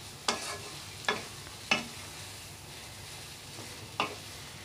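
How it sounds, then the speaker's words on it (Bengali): Potatoes stirred and fried with spices in a pan for egg devil, with a few sharp scraping stirs over a faint steady sizzle. "এইভাবে মশলার সঙ্গে ভালো করে আলুগুলোকে কষিয়ে নিতে হবে।"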